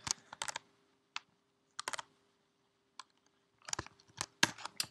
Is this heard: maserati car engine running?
no